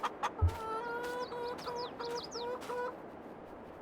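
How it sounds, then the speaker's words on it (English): Chickens in a game farm setting give a few rhythmic clucks and calls, fairly clear against a quiet outdoor background, with a couple of soft thumps early on. "Chickens!"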